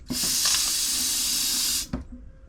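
A steady, loud rush of air hisses from an open faucet in a camper whose water lines are being blown out with an air compressor, lasting about two seconds, then cutting off with a brief sputter.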